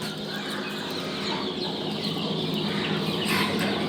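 Newly hatched chicks peep continuously inside a homemade incubator built in a fridge and holding chicken and quail eggs, a dense, steady chorus of high cheeping heard up close with no talk.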